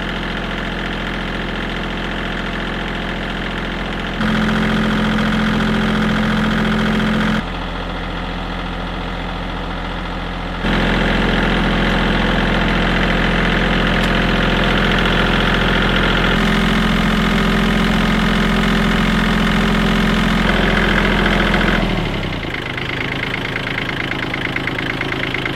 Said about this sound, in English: We're just letting the tractor run warm right now so that the oil will come out easily